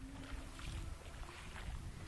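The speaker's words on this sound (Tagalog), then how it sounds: "Yan yung mga bangka." Boats on the sea off Santiago Bay in the Camotes Islands, Cebu, heard as a steady low rumble with wind noise throughout, no voices.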